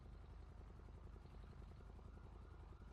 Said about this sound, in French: Ouais, j'entends un hélico.